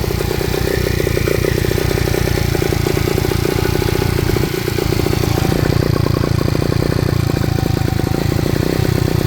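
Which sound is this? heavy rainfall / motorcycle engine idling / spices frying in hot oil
motorcycle engine idling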